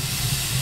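A steam attack in the Manamon 2 game gives a short, loud, broadband hiss that holds steady for under a second.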